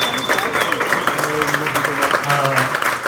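Audience at a blockchain association event applauds, a steady dense wash of clapping throughout, with voices murmuring beneath.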